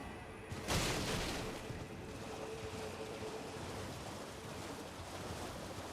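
Steady rushing water of a waterfall in the video game Elden Ring: Shadow of the Erdtree, a broad constant roar with a brief louder swell near the start, no voices.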